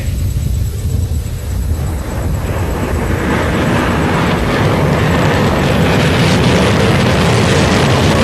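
Indian Air Force Sukhoi Su-30 jet passing slowly at low speed during an air display, a loud continuous roar that swells and broadens as it nears, with no talk over it.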